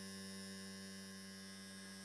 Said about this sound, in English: the first thing is you now know why it's called a vibrator. You can hear that.